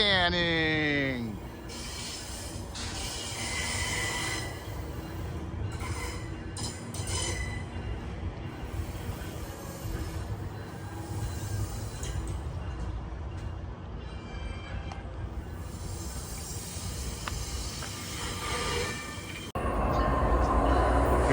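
A train rumbles and clatters continuously past a station at close range, with wheel squeals, hissing and a high whine near the start, under occasional voices.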